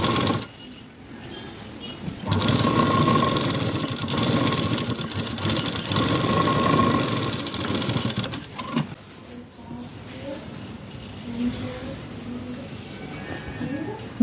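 A sewing machine runs steadily for several seconds while stitching both sides of a blouse front, close by, then stops and gives way to quieter handling noise and a voice.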